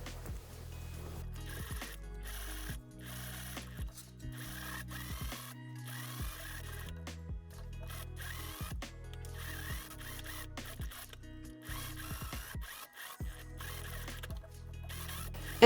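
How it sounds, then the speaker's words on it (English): A sewing machine stitches around the neckline of a corset top in quiet, close bursts of rapid mechanical whirring, stopping and starting repeatedly with brief pauses between runs. "I can go ahead and stitch around the neckline to fix everything in place like this."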